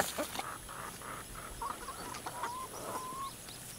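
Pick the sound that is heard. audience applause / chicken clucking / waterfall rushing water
chicken clucking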